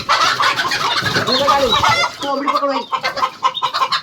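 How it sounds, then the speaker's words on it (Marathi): A rooster clucks and squawks loudly and close by, in agitated bursts at a poultry farm as its legs are being tied, with people moving and talking nearby. "आता आपला कोंबडा कुठला आहे तर तो बघा"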